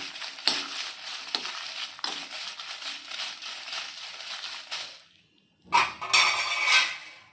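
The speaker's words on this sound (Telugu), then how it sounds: "మిర్చి ఫ్రై అయినాయి" Dried red chillies fry in a little oil for a Telugu pallila (peanut) powder, a steady close crackling sizzle with scraping stirs, briefly falling quiet before a loud burst of frying resumes.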